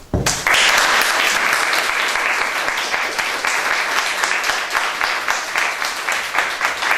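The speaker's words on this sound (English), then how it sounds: "I want you to give a round of applause for Shahranur." A loud, full round of applause breaks out suddenly at a women's freedom conference and carries on steadily, a packed crowd of hands clapping close and strong without voices on top.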